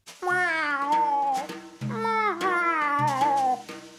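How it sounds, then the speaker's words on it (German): A cat meows plaintively in three drawn-out, wavering cries with short pauses between, close and fairly loud. "Doch Tiger schnurrt nicht erfreut, sondern miaut klagend."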